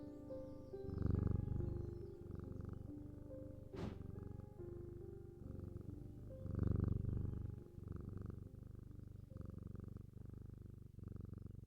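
In the video game Strange Antiquities, a petted cat purrs in a low, throaty rumble, swelling on each breath in a slow, regular cycle. A brief bright chime rings once partway through.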